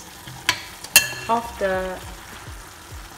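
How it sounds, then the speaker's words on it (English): Minced meat with garlic sizzles and fries in a pan while a utensil stirs and scrapes through it, with clinks and knocks against the pan and a few words spoken briefly. "So while the minced meat is boiling and the water is evaporating"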